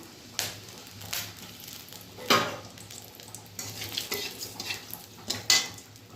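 Whole chillies and bay leaves drop into hot oil in a pan for tempering, giving a soft sizzle broken by a few sharp clinks and scrapes of a utensil against the pan, close and fairly quiet.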